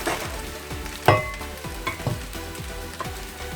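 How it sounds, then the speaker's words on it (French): Rice fries and sizzles in oil in a pot, crackling steadily with scraping stirs and a few sharp clinks of the utensil against the pot, fairly faint and close. "J'ai fait revenir mon riz pendant 5 minutes."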